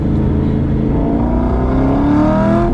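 An LS3 V8 swapped into an ND Miata revs hard on a race track, its loud, continuous engine note climbing steadily in pitch as it accelerates, heard alone with no talking.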